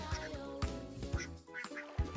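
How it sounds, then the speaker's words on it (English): Farm ducks quack while being fed: short quacks repeat at a steady rhythm, fairly quiet and alone. "Feed the ducks small pieces, they love it."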